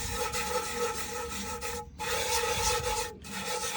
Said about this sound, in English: Grab you some different pieces of salt, and as you take and rub that around, you can see it's starting to take that rust off.